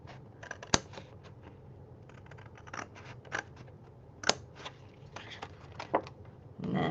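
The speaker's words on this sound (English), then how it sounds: "And then I just take my scissors and I'm showing you, see that? And just cut that off." Scissors snip through cardstock beside a score mark while making a pop-up birthday card, a series of crisp close cuts with quiet handling noise between them.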